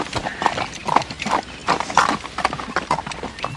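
Horse hooves clip-clopping on packed ground at a Kansas homestead in a Western drama, a steady close walking rhythm of hoofbeats under faint background voices.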